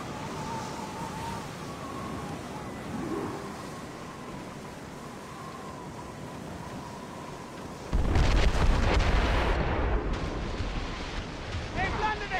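Mortar fire erupts in a naval battle in the game Assassin's Creed Rogue, a sudden heavy, rumbling blast breaking over steady sea and wind ambience and lingering loudly as voices call out.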